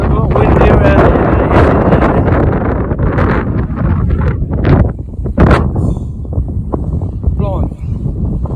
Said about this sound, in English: I hear the wind, but I didn't feel it in there